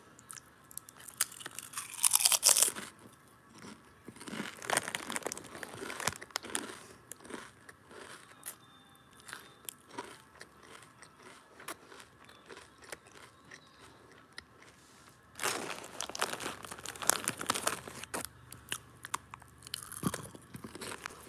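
Close, crisp crunching and chewing of chips in a late-night ASMR session, irregular bites and crackles coming in clusters, louder at the start and again near the end, with quiet stretches between and no talking.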